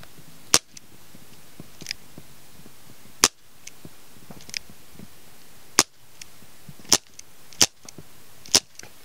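An ICS M1 Garand airsoft rifle fires BBs in semi-automatic, about seven sharp, loud snapping shots at irregular intervals, with faint mechanical clicks and handling noises between them.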